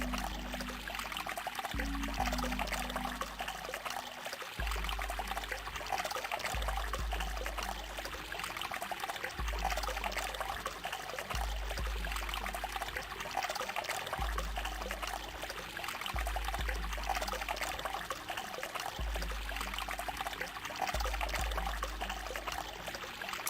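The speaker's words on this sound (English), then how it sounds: "I'm running the water." Faucet water running in the video game The Nonary Games (999), a continuous pouring trickle over a steady low rhythmic pulse of background music.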